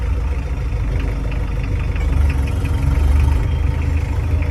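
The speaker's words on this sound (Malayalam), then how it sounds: "ഇത് M540 ആണ് വണ്ടി. ഇതിൻ്റെ അകത്ത് ST25 ആണ് എഞ്ചിൻ ഇരിക്കുന്നത്." A Nissan SD25 diesel engine in a Mahindra M540 jeep chugs along in first gear up a slope without throttle, a steady low, knocking rumble held close and loud throughout.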